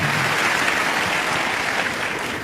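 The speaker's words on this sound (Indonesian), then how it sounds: "Kita beri tepuk tangan buat Tuhan." Continuous audience applause at a church testimony gathering, dense and steady clapping from a large crowd that fills the whole span at an even level.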